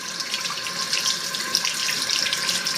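A waterfall faucet fitted with color-changing lights runs a steady, continuous stream of water into a sink, a close, even hiss and splash with no pauses and no voices.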